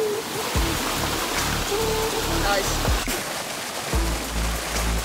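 A waterfall in Langkawi, Malaysia gives off a constant broadband rush of falling water, steady and fairly close, with a person's voice briefly heard over it.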